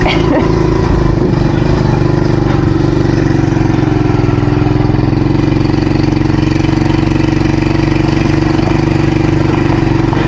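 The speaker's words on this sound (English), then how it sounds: "First time on a dirt bike." A Honda dirt bike engine runs close by at a steady idle, a loud, even mechanical drone with a rough pulsing beat that holds for the whole stretch.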